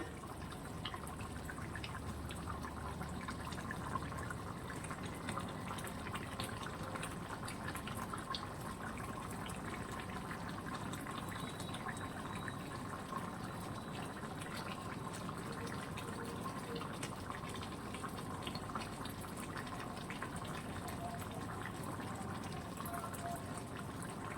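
Curry water boiling steadily in a pot for potato, pointed gourd and prawn curry, a continuous soft bubbling and simmering hiss at close range, unbroken throughout with no clear talking.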